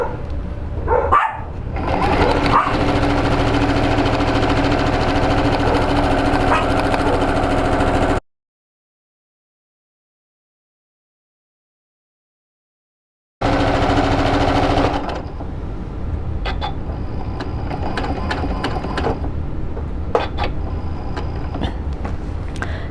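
A sewing machine back stitches across a rag quilt in long, steady, humming runs, loud and close, broken by a stretch of complete silence before it resumes more unevenly.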